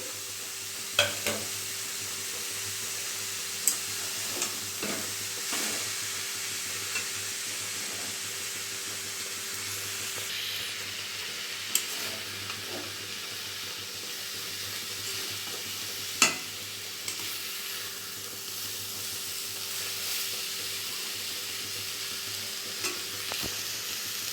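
Fried potatoes sautéed with banana flower in a pan, a steady hissing sizzle running throughout, with sparse light clicks and scrapes of a spatula, close, even and wordless.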